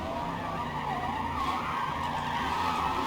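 A car skids sideways in the Forza Motorsport racing game, a loud, continuous tire squeal with steady engine noise underneath, lasting about three seconds with no talking.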